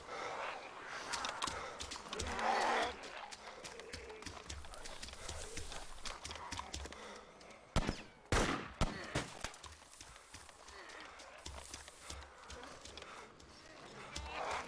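Two sharp rifle gunshots ring out close together in the survival game DayZ, cutting through a steady bed of footsteps and outdoor ambience.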